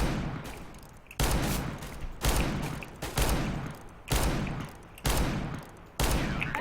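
R8 revolvers fire in a CS:GO match, about six loud, sharp shots spaced roughly a second apart, each followed by a short decaying tail.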